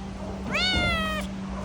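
Single cat meowing at a Hawaii Humane Society animal shelter, one clear drawn-out meow, close but fairly soft, over a low steady hum.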